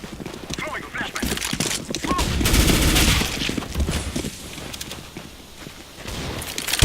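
Rapid gunfire rattles in the video game CS:GO as bursts of shots crackle over in-game noise, while a player talks excitedly throughout.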